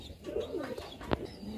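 Pigeons in a fancy pigeon loft coo softly and close, a low burbling call with a brief sharp flutter or tap near the end, quiet and without speech.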